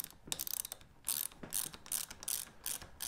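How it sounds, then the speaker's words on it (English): Ratchet with a 10 mm socket tightening a lock nut on a fibreglass shelter pole hub, quick close bursts of sharp clicking in short repeated strokes with brief pauses between. "Ratchet it down till it's taut."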